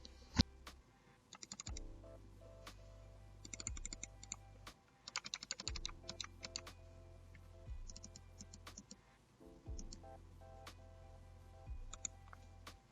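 Sharp Cooler Master MM711 mouse button clicks tap out in quick bursts and single presses, close and fairly quiet, with a low hum coming and going beneath them.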